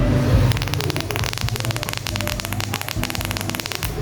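A vape mod with a SAN101 chipset fires a coil wetted with green apple liquid, giving a steady buzzing, crackling hiss with fluctuating static close to the microphone.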